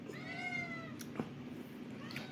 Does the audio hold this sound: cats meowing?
yes